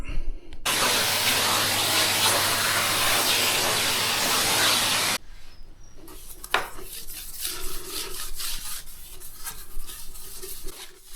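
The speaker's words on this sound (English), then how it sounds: "So I've already vacuumed this once. Vacuum again." A vacuum cleaner roars loudly for about five seconds while vacuuming a self-levelling compound floor, then cuts off, leaving quieter scraping and handling noises.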